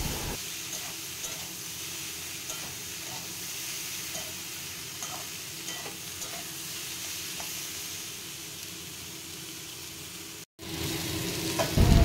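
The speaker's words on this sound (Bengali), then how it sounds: "এবার ভালো করে একটু ঢেকে ঢেকে ভেজে নিতে হবে।" Chickpeas with turmeric and salt fry in a partly covered pan, a continuous even sizzle and hiss with faint scattered knocks, running steadily before a brief cut and a louder burst of frying.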